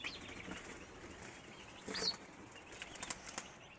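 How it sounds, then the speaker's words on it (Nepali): A pet turkey flapping its wings indoors, a few close bursts of rustling feather beats, strongest around the middle and again in quick flurries near the end, with no talk. "यो मेरो टर्की उमा हो।"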